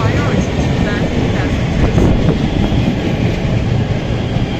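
A train at a station platform in Istanbul, heard as a steady loud rumble with faint rail clatter and no distinct voices.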